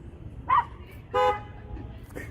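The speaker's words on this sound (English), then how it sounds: "They just honk at him." A car horn honks twice in quick short toots, close by, with faint ambient noise between the blasts.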